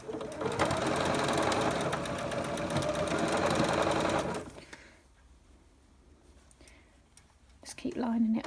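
Sewing machine stitching a fabric butterfly piece down for a tactile sewing kit, a steady close whirring run for about four seconds before stopping, followed by quieter handling sounds and a brief voice.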